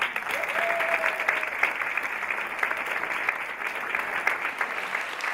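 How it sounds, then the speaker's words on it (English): Audience applause for a panel at a talk on Chicago's inclusive economy and creative sector, a steady, moderately distant wash of many hands clapping that holds evenly throughout, with a brief faint tone near the start. "So one more round of applause for our panel."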